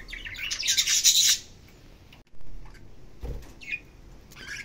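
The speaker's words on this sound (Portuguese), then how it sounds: "Era um periquito arco-íris." A rainbow parakeet chirps in short bursts, loudest near the start, then some quieter scattered tweets and rustling sounds follow.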